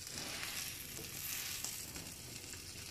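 A quesadilla cooks in a little oil in a pan over a low flame. A soft, continuous sizzle and crackle holds steady for a few seconds.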